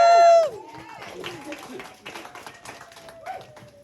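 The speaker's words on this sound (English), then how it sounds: "Can I get a round of applause for the bride?" At a wedding reception, guests applaud the bride: scattered hand claps and light crowd noise follow the fading tail of speech, staying fairly soft and irregular throughout.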